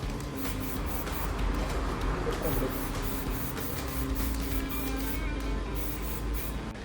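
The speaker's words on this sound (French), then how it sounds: "Et tout simplement y passer un petit de bombe noire." A black spray paint can hisses in a steady continuous spray, repeated short pulses audible throughout, with a person talking faintly underneath.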